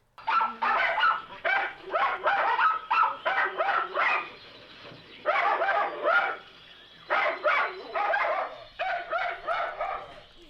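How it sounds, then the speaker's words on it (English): A puppy barks in a busy office, repeated high yapping barks in quick bursts separated by short pauses, close and loud with no talking. "it's puppy chaos here at the Henry Rollins Heidi May podcast"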